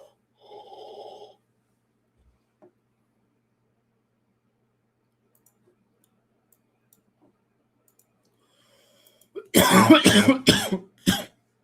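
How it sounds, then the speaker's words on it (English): A short burst of harsh coughing, several rapid close bursts after a long quiet stretch, preceded earlier by a faint brief voice. "Trying not to cough here on the live."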